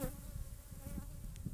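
Honey bees at a hive in a Savanna apiary hum in a steady low drone, faint and continuous, with no voices over it.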